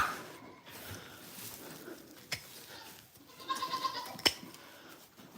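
A goat on a farm cries out with loud, high-pitched bleats, several quick calls clustered near the end over steady barnyard background noise, with a couple of sharp bangs in between.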